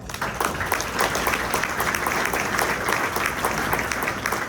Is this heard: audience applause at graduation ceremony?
yes